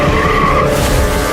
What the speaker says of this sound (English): a woman plows her car through the window